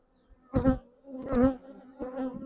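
Honey bees buzz close by in three short bursts, a droning hum rising and falling between brief quiet gaps.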